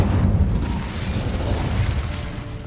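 An Incendio fire spell in Hogwarts Legacy sets off a heavy, rumbling blast that swells into a dense, sustained roar of fiery noise, loud and close throughout, with no talking.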